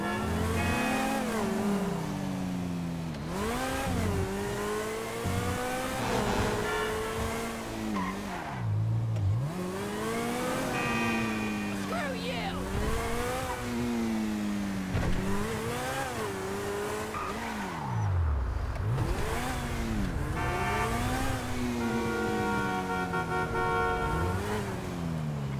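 Cars racing in the video game GTA V, with engines revving up and down in repeated sweeps, tires skidding and squealing, and a horn tooting, all loud and continuous with no talk.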